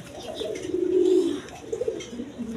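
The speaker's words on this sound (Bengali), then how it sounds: "এইখানে এক পেয়ার কবুতর আছে, দেখে বোম্বাই কবুতর, রেড কালারের মধ্যে" A pair of red Bombay pigeons, sitting on two eggs, give low, soft cooing that swells in the middle and returns in shorter bursts, close by and alone.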